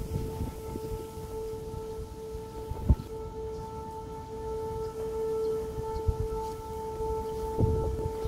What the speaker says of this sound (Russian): на заднем фоне у нас постоянно работает сирена о воздушной тревоге